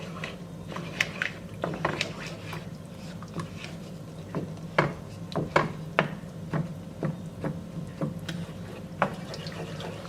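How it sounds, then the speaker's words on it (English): Spoon scraping and clinking in a pan while Parmesan cheese is stirred into a creamy sauce, a series of sharp metallic taps and scrapes over a low steady background hum, close and moderately loud. "I'll stir this around"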